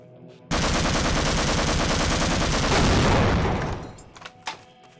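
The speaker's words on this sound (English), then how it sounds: "I heard gunshots?" Gunfire in the video game Half-Life Source erupts suddenly as a dense, continuous burst of rapid shots, loud and harsh, then thins out into scattered trailing bangs and fades.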